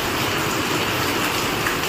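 Dense, steady downpour of heavy rain, a constant loud hiss with no voices or breaks.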